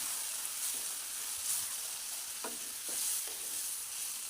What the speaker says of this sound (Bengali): এবারে ফাইনালি বেশি পরিমাণে জল দিয়ে দেবো